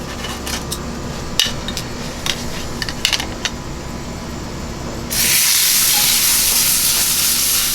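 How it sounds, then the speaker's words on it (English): A very dry steak hits a hot pan and bursts into a loud, steady sizzle that runs to the end, after a few clinks and knocks from pans and utensils. "Woo, that's a hot pan. I'll throw that on there."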